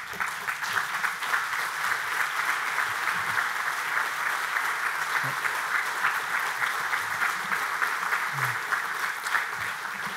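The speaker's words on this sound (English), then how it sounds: "give our wonderful governor a warm set of applause" Guests at an outdoor family picnic political event stand and applaud the governor with a steady, sustained patter of clapping at moderate distance, constant from start to finish with faint scattered voices underneath.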